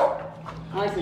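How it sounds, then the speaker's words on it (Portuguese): A French bulldog gives a quick, close bark that trails into a whiny yip, lasting only about a second. "esse cachorro às vezes late assim"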